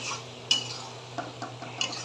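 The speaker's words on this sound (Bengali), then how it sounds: "এই তো ঢাকনা খুলে দেখি কি অবস্থা।" A lid comes off a cooking pot with a sharp metallic clink, followed by a few light scrapes and taps of a utensil stirring the half-cooked food, quiet and close over a faint background hum.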